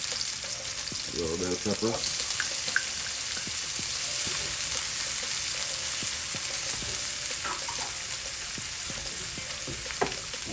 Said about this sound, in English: we're going to go ahead and add our onions. We're going to saute these for a minute or two.